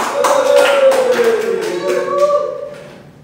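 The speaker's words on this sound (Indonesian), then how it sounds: "Beri tepuk tangan." A fourth-grade class claps briefly in the classroom, a short scattered burst mixed with children's voices, fading after about three seconds.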